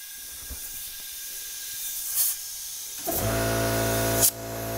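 Air hissing from a significant boost leak on a ProCharger supercharged Chevrolet Silverado during a leak check, with faint hiss early, a brief burst near two seconds, then a loud sustained rush with a low throbbing drone underneath.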